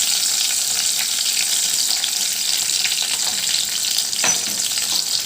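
Bay leaves and chilli pieces sizzle in hot oil for a green moong dal curry, a steady, loud, crackling fry that runs throughout with a brief sharper sputter near the end.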